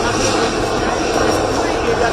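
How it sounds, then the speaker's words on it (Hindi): An attack helicopter flies during an Indian Army exercise, a loud, steady engine roar throughout the short moment, with a voice partly over it. "attack helicopter,"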